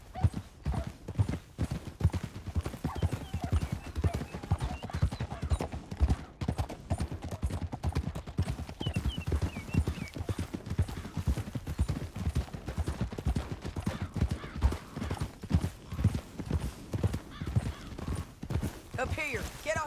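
Hooves pound in a steady, driving gallop, loud and continuous, with faint gunfire-like cracks and a horse's whinny mixed into the clamor, in the video game Red Dead Redemption 2.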